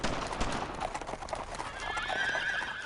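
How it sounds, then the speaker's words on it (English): Horses neighing with hooves clopping in the World War II shooter Brothers in Arms, a whinny rising over steady galloping hoofbeats and game ambience, loud and fairly close. "The increasing horse noise."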